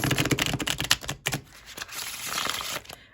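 Tarot cards being shuffled close up, a rapid run of crisp riffling flutters followed by softer sliding and rustling.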